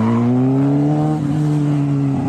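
A car engine drones loudly and close with a steady rising and falling pitch as it drives up onto a sidewalk, no voices over it.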